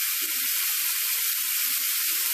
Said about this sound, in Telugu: చూడండి ఈ విధంగా వేయించుకోవాలి